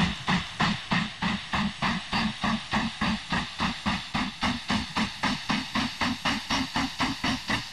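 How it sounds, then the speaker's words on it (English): A Prussian T3 steam locomotive in the game Mashinky chuffs along a rail line with a steady, rapid, even rhythm of exhaust beats, loud and close, running alone without talk. "Our train is headed by a Prussian T3"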